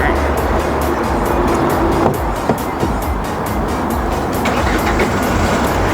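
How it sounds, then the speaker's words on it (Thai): A Hyundai H1 Elite van's A2 diesel engine starts and rumbles loudly at close range, idling with a rapid rattling knock, while a voice speaks in Thai over it. "สตาร์ทเครื่องให้ฟังนะคะ"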